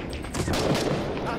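Sustained gunfire in the co-op shooter Six Days in Fallujah, a dense burst of rapid shots close by that keeps going for the whole moment, with a voice partly mixed in.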